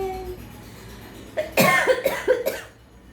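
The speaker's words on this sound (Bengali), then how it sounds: "আমার অনেকটাই কাশি হয়েছে" A person coughing several times in a quick cluster, close and fairly loud, after a brief quiet stretch with faint background hum.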